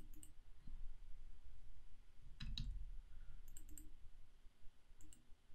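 A computer mouse clicks a handful of times at a desk while working in Power BI, sharp, quiet ticks spaced irregularly over low room noise.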